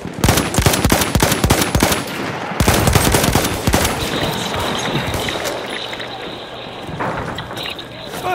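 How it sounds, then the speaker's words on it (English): Machine-gun fire rattles in rapid bursts during a Battlefield 1 battle, loud and close, mixed with other gunshots and crashes while voices shout beneath the fighting. "There's a machine gun!"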